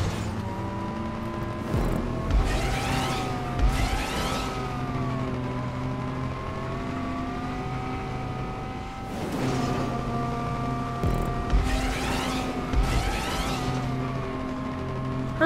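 Race cars in GTA 5 Online, including a Banshee, roar continuously through a lap, with engine notes rising and falling as they rev and shift and several surges as cars pass close. Nobody speaks.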